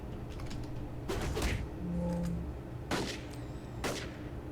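Enemy gunfire in the City of Villains video game sounds as a few sharp, separated bursts spread across several seconds, over a low mechanical background hum with no talking.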